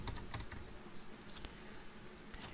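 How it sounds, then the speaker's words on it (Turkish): A single key press on a computer keyboard, the P key, gives a faint, light click against quiet room tone, followed by a few soft taps. "Şimdi klavye üzerinden P tuşuna bir kere basıyorum"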